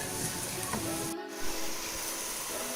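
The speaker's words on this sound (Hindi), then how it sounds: "कीमे को मैंने 1 से 2 मिनट के लिए भून लिया" Minced meat fries in a pan with onion, ginger and garlic paste, giving a steady broad sizzling hiss that carries throughout at moderate level, with a few faint clinks and a brief dip partway through.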